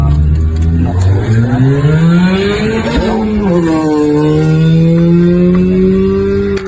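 Mini Cooper S race car at a motorsport event, engine loud and close, revving up and down with pitch sweeping through gear changes, a steady drone continuing throughout.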